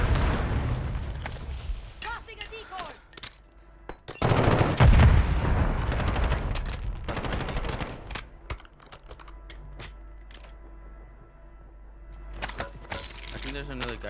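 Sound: grenade explosion and gunfire in Call of Duty Modern Warfare III video game

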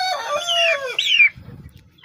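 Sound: rooster and hens clucking and crowing

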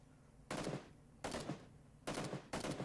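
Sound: enemy gunfire in a video game

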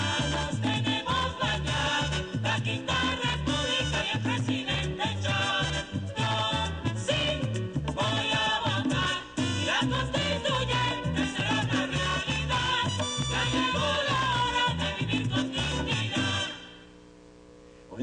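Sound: song recording played from a CD

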